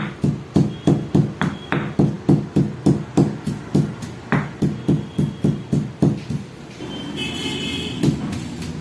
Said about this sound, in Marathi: जितकं तुम्ही रगडून कुटाल तेवढा आपला मसाला चवीला चांगला होतो.